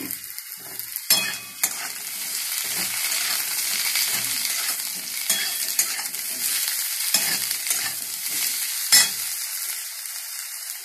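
Eggplant pieces sizzle and fry steadily in a hot pan alongside browned potato and radish, with occasional sharp clacks of stirring scattered through the continuous crackle.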